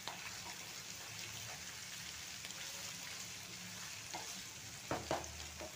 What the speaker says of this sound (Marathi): हे हलकंसं पनीर भाजून घेतलेलं आहे